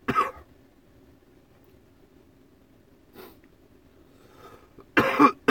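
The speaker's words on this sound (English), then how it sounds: "you guys are just listening to me cough." Two bursts of coughing inside an old VW bus, one at the start and a harsher, louder cluster near the end, separated by a quiet stretch with a faint throat sound.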